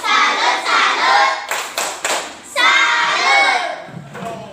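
A class of children chants the Indonesian 'tepuk salut' clap chant in unison, loud and close, with rhythmic hand claps and shouted syllables broken by a brief pause.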